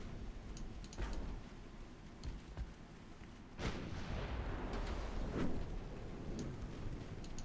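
Naval secondary guns firing in the Ultimate Admiral Dreadnoughts warship game, a series of booming shots followed by rolling rumble and a steady crackling, noise-like wash, no talking.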